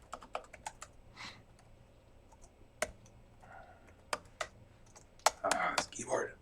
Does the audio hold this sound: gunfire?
no